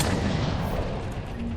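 Booming sniper fire in the video game Mass Effect 3 blends into a dense, continuous roar of shots and impacts, loud and close for under two seconds.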